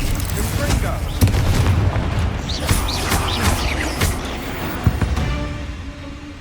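Confringo spell explosions in the Hogwarts Legacy video game on PS5, a series of deep booming blasts and bursts repeating over dense, rumbling battle noise, with voices heard throughout.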